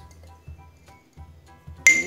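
A spoon clinks against a glass dish as onion cream is added, giving soft repeated taps and a sharp ringing clink at the end, with almost no talk.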